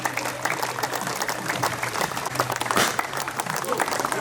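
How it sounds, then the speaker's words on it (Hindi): Applause at a foundation event in Bhartal Garden, Jabalpur: many hands clapping in a dense, continuous roar with a swell near the end, voices faintly underneath. "पूरे भारताल गार्डन में तालियों की गूंज जानी चाहिए।"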